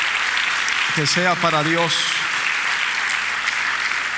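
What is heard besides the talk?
congregation applause in church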